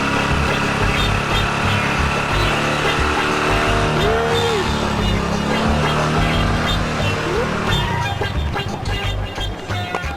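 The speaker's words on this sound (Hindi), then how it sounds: "गाड़ी का आवाज" A car arrives with a loud, continuous engine roar and a brief tire squeal, close and dominant, then tapers slightly near the end. Faint talking may sit beneath it.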